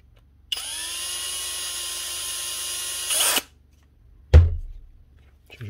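A power drill bores into the plastic back casing of a power tool near the bearing race, one steady whirring run of about three seconds that rises at the end, followed by a sharp knock and a short rattle, with no talking.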